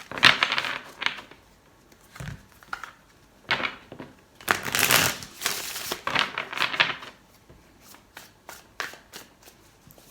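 Tarot cards are shuffled by hand in several bursts of crisp riffling and flicking, separated by short quiet gaps, with taps and dull knocks between them.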